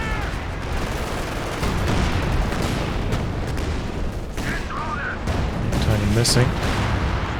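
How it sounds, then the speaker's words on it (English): Calliope rocket barrages in a Company of Heroes 2 match land as a dense, continuous rumble of explosions and booms. A commentator talks over the loud barrage throughout. "Now some major artillery coming in on this."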